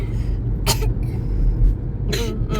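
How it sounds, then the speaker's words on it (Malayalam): Two short, sharp coughs a couple of seconds apart, close by, over a steady low background rumble. "ചുമയും ജലദോഷം."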